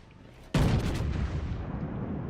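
A single deep, booming naval gun salvo from a North Carolina battleship in the World of Warships game, sudden and loud, then a long rumbling tail fading out.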